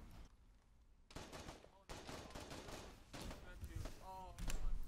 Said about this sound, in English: Gunfire, northeast, watch it.